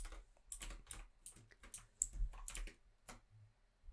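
Rapid clicking of a computer keyboard as an HTML heading tag is typed while coding a Django hello world page, steady bursts of close, crisp keystrokes with short pauses and no talking.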